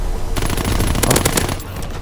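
A rapid-firing gun in Call of Duty WW2 during its Halloween Scream update lets off a fast, loud, continuous burst of shots lasting just over a second, with no talk over it.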